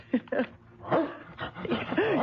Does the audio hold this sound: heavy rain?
no